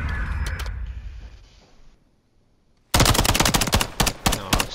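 Automatic gunfire from the Call of Duty Modern Warfare 3 game starts abruptly as a loud, rapid burst of shots after a fading rumble and a short silence.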